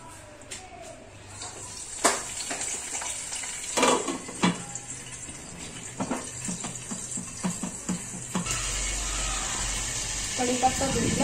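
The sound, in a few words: pea vegetable dish sizzling in hot tempering oil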